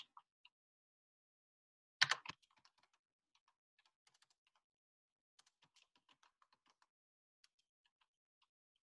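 Scattered keystrokes on a computer keyboard, typed in short irregular bursts with a louder cluster of clacks near the start, then sparse light taps trailing off in an otherwise quiet room.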